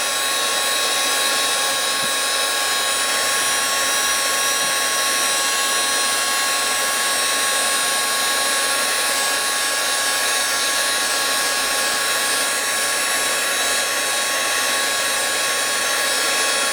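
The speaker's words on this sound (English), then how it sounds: "Now your bead's going to be hot from your heat gun." A heat gun blows hot air onto a bead, producing a loud, constant roaring rush of air that stays steady and unbroken from start to finish, with no voices.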